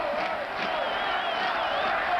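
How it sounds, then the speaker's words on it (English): A large stadium crowd at a 1986 CFL West Semi-Final football game in Edmonton, Calgary visiting, roars and cheers in a dense, sustained wall of noise with a few whistles, loud and continuous. "the crowd is really getting involved with the game now"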